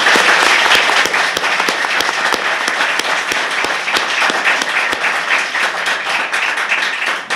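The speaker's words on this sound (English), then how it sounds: "if you could give him a hand of applause" A hall audience at a League of Women Voters candidate forum at Chesapeake College applauds, dense sustained clapping that stays loud and even for the whole stretch, with sharp individual claps standing out.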